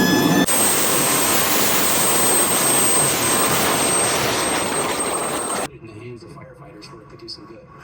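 Wildfire suppression mist-spraying machine running during a live outdoor demo, a loud steady roaring hiss with a high whine that cuts off abruptly near the end, leaving quiet ambience.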